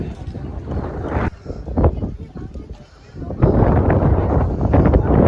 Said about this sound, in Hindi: कितनी तेज हवा है, मेरे बाल से पता चल रहे होंगे।